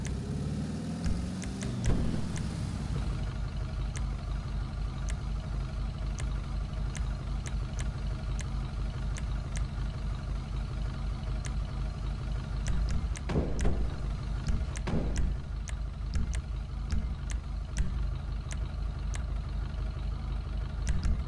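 A car engine idling in GTA V Online, with a steady low exhaust rumble running the whole time, a brief rev near the start, and a couple of louder surges toward the end.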